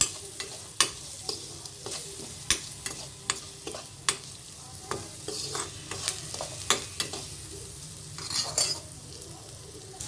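A spoon stirs vegetables salted in a sizzling pan for a drumstick and tomato curry, with sharp scraping knocks at an irregular rhythm over a constant low fry, close and fairly quiet.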